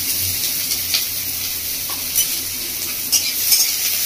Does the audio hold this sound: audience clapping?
no